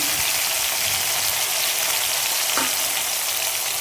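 Two medium tomatoes and a finely chopped green chili fry in a hot pan for a spiced eggplant curry, giving a loud, steady, continuous sizzle with no pauses and no voices.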